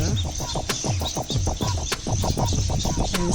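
Egrets and their chicks nest in a neem tree, giving rapid, evenly spaced croaking calls with a few sharper chirps on top. The birds are close and moderately loud, with no talk.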